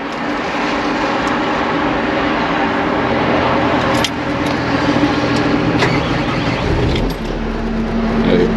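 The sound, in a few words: diesel vehicle engine idling with DPF, high idle regenerating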